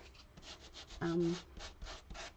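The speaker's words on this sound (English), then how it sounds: "So I'm just sanding the raised edges, and it's bringing out the white core of the cardstock." Quiet, close sanding strokes rub back and forth over the raised edges of embossed cardstock in a steady rhythm, interrupted once by a brief low hum.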